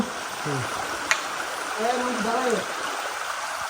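Stream water flows over rocks along a hill path, a steady broadband rush close by that runs throughout, with people talking over it.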